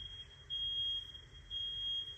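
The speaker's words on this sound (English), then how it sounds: "And there's the alarm right there, the fire alarm." An indoor fire alarm beeps in long, piercing high tones that repeat about every second, steady and fairly close, with no voices.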